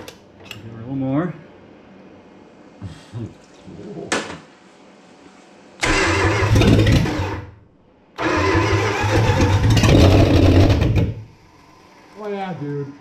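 A rebuilt 318 V8 engine in a 1965 Plymouth Fury wagon cranks and roars to life in loud bursts, revving strongly twice with short gaps, while people talk nearby between the runs.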